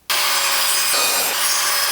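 A 5.5-inch wooden fence picket board is cut in half at a 45-degree angle. The sawing is loud, close and steady, a continuous rasping that runs the whole length without a break and with no voices.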